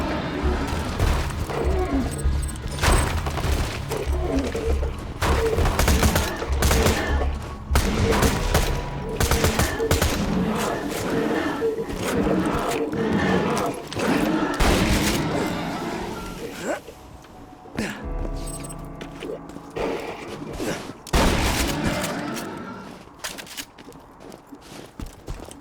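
Rapid bursts of bandit gunfire from Borderlands 2 pound away loud and close, shots and automatic volleys chaining through most of the stretch with brief lulls, footsteps and game effects underneath.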